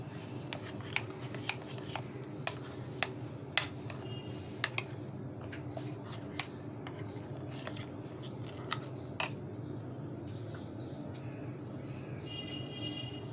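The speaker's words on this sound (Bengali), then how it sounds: "এটা ভালো করে মিশিয়ে নিচ্ছি সবগুলো একসঙ্গে" Spoon clinking and scraping in a bowl while prawn paste ingredients for prawn paturi are mixed together, salt added, with sharp intermittent taps over a steady low background hum.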